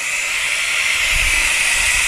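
Steam hissing steadily from a coolant leak on a Nissan car, a constant loud broadband hiss with no break, a faint low rumble underneath.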